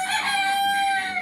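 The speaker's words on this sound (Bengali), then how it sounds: "মোরগে ডাকছে।" A backyard rooster crows once, loud and near, a single sustained harmonic call.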